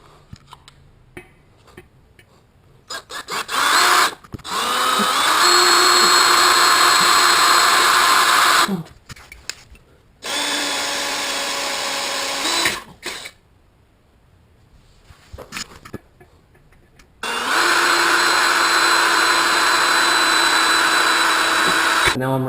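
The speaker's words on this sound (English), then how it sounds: "I'm going to go ahead and drill a pilot hole, and then I'll step up to the full size drill bit." A power drill bores a pilot hole for a differential brace on a first-generation Cadillac CTS-V, with a loud whining motor in three long bursts separated by quiet pauses and light handling clicks.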